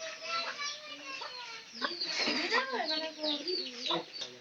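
Pigeons call close by in a loft during the rainy season, a run of soft rising-and-falling coos and throaty notes, with a louder cluster near the middle and a few scattered bird chirps around them.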